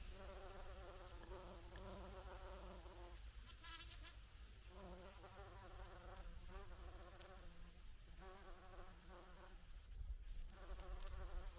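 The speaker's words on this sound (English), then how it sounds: "very busy little bee." A bee buzzing in sunshine at a sheltered outdoor spot in Sweden, a faint, steady droning hum that wavers in pitch as it moves, with quieter gaps and light background noise.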